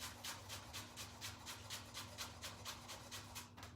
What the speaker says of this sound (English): we want to chop that a little bit finer